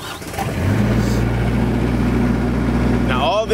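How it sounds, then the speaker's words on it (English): A Miller Pipe Pro 350 diesel welding machine with glow plugs starts up and settles into a steady, loud, close engine drone with a low hum that runs throughout. "This is the machine we're gonna use for the demos. It's a Miller Pipe Pro 350."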